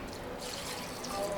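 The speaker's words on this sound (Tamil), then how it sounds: "இப்போ இதில் வந்து தேவையான அளவு தண்ணி ஊற்றிக்கலாம்." Water is poured over soaked peas and potato cubes in a pot, a short soft trickling pour heard close up.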